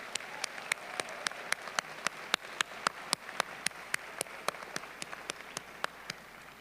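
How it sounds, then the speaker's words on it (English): A sparse round of applause for faculty and staff at a university commencement ceremony, with a few hands clapping in a steady, evenly spaced rhythm and no voices over it. "If you could give them a round of applause for their dedication."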